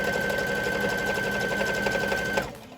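A sewing machine top stitches around a knit neckband, running in a fast, steady mechanical whir with rapid needle ticks for a few seconds before stopping abruptly.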